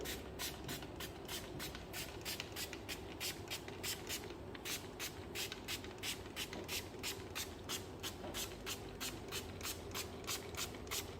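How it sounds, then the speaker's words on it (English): Steady pulsing bursts of soap solution hiss in quick, even rhythm onto an air conditioner's evaporator coil and fins, close and continuous, over a low mechanical hum. "Now you can clean the evaporator fins and the coil using soap solution by spraying it"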